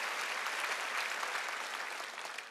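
A congregation claps together during a Sunday worship service at Jesus Center Church, a dense, even wash of applause that stays steady and fairly soft throughout.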